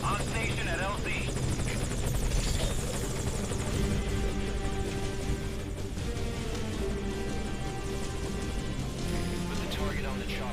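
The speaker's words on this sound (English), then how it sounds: "Put the target on the chopper." A helicopter comes in to land in Metal Gear Solid V Ground Zeroes, its rotor chop and engine drone filling the scene steadily and loudly, with in-game radio voices and movement noises mixed over it.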